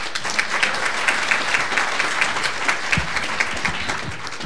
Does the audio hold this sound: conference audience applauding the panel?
yes